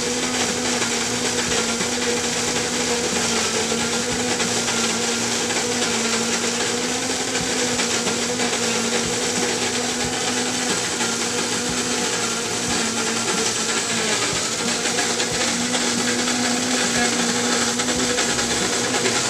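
A KRUPS GX 5000 burr coffee grinder set to 12 grinds a full hopper of beans, a steady whirring motor drone with gritty crunching texture that stays loud and unbroken throughout.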